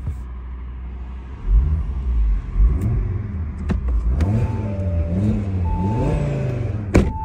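Audi RS3 engine revving in dynamic mode, a deep rumble that climbs and falls through several throttle blips, loud and close, with a sharp pop near the end.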